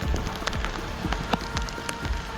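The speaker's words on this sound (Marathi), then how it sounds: "हा बघ पाऊस" Steady rain falls with dense pattering of drops on a hard surface, continuous and fairly close, with no voices.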